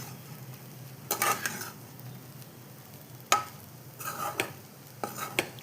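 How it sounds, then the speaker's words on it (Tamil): Carrot rice with roasted cashews being stirred in a pot, giving a few separate bursts of scraping and soft sizzling with quiet gaps between them. "வறுத்து வச்ச முந்திரியை இதில் சேர்த்துட்டேன்."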